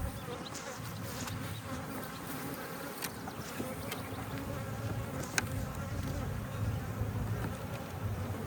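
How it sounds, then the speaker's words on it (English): Honey bees buzz continuously in an open hive frame of drawn comb, a close, steady droning hum with occasional faint clicks and no voices. "I don't know what these bees are doing, guys."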